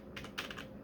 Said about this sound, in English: I'll give you guys like a typing test